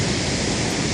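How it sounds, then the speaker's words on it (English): Gaganachukki waterfall on the Kaveri River in full flow, near a hydroelectric plant, pours out a steady, dense roar of rushing water that stays loud and unbroken throughout. "Currently the water is in full flow and this fall is at its best"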